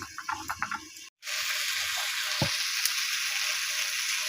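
Chopped onion frying with cumin in a pan gives a steady, close hiss of sizzling, preceded by a few clattering knocks and a brief drop to near silence.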